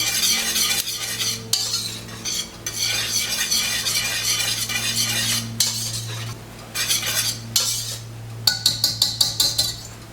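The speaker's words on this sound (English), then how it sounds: "we just want to stir that until our Parmesan is all melted into our sauce" A spoon stirs Parmesan cheese into a simmering sauce in a pan, with repeated close metallic scrapes and clinks over a soft bubbling sizzle, ending in a quick run of taps.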